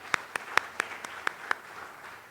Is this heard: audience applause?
yes